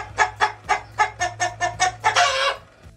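A chicken clucks in a quick run of about ten close, evenly spaced calls that build into a louder, longer squawk at the end, over a faint steady hum.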